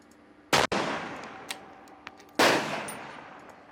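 Two sharp, loud gunshots ring out in a shooting match, about two seconds apart, each with a long echoing tail and faint clicks between them.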